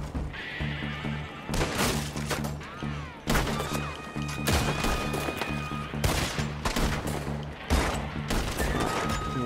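Repeated loud gunshots in Red Dead Redemption 2, about five sharp cracks spaced a second or two apart, mixed with a horse whinnying and hooves clopping nearby.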